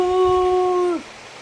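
Dog howling: one loud, clear, steady howl held close for about a second, then dropping off abruptly into quiet background.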